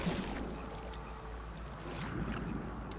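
Vehicle plunging into water in No Man's Sky, giving a steady washing, pouring splash under continuous watery churn that swells near the end, with no talk.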